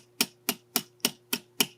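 A hammer gives six light, evenly spaced taps to a spile set into a maple tree, crisp close knocks against a faint steady hum.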